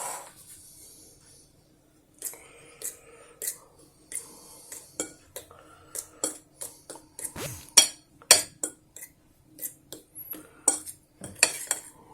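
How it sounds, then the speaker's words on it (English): A fork mixes flour, sugar and butter in a bowl for a peach kuchen, producing irregular scraping and clinking strokes of metal on the dish, close and fairly quiet, speeding into a busier run of taps after a brief pause. "And the way I'm gonna mix this up, I'm just gonna use a fork."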